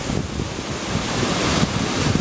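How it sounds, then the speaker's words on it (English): Ocean waves rolling in at White Point Beach in Nova Scotia, a continuous broadband wash of surf mixed with wind buffeting the microphone, steady and close with no voices. "let's see the water coming in."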